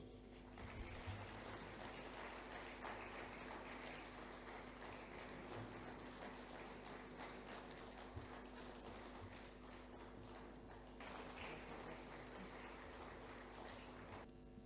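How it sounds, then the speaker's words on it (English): Applause from a conference audience, quiet and distant, a dense continuous patter of clapping that carries on steadily for over fourteen seconds with no speech. "You can keep the claps going."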